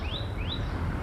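Sparrows chirping in a natural outdoor spot, two quick rising tweets close by over a low rumbling background with no talk.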